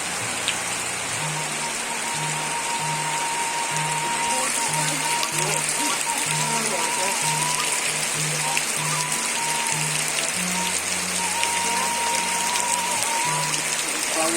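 Heavy rain falls over rice fields in the countryside, a continuous, even hiss of drops on surfaces, with a faint repeating melodic tone running quietly underneath.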